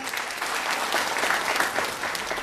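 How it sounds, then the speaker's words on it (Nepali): Audience at a DXN business seminar in Dubai applauding together, dense continuous clapping filling the room for a couple of seconds. "सबैलाई आफैलाई जोरदार तालीले स्वागत।"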